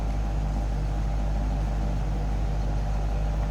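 A 1960 Buick Electra 225 hardtop idles smoothly, heard from behind the car as a steady, even low rumble with a faint hum and no talking.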